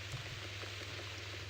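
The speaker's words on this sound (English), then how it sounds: "Looks like we got the rain back." Rain in The Cat Lady video game, a soft, steady patter falling on a surface, low and even throughout the brief stretch with no speech.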